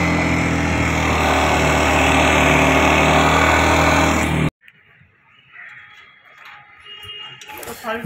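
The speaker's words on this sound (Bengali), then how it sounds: "ইঞ্জিনে আওয়াজটা শোনা কেমন ঘ্যার ঘ্যার করছে" A Yamaha FZX motorcycle engine with a burnt clutch plate runs with a loud, steady grinding drone for several seconds, then cuts off abruptly, leaving quieter rattles and faint background noise.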